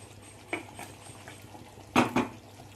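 Mutton kosha being stirred in a cooking pot, heard as two or three clinks of a utensil against the pot, the loudest pair close together near the end, over a low background hum.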